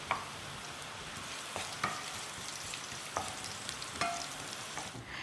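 Green chili and finely chopped curry leaves fry in hot oil with sesame seeds, a steady sizzle broken by a few sharp stirring scrapes of a spoon in the pan, close and moderately loud with no talk.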